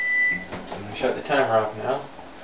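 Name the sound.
oven timer beeping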